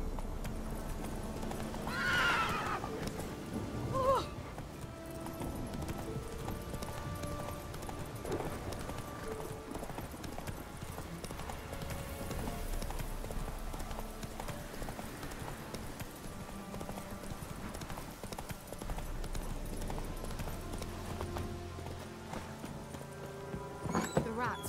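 Roach, a horse in the video game The Witcher 3, whinnies and runs with clip-clopping hooves amid continuous in-game music and ambience.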